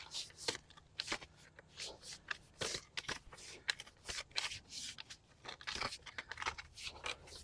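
Garden edging blade chopping through stubborn sod and soil with rocks while cutting a new garden bed, a steady series of crunchy, scraping strikes close by, quiet overall.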